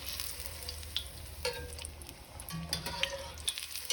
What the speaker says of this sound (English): So we're just gonna let that fry for a little bit.